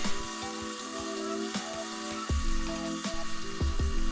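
A saw buzzes and rasps through vinyl sheet flooring in several short bursts, with clunks and pauses between cuts, close by, inside a van.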